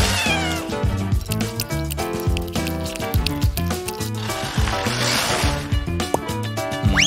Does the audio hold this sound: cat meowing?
yes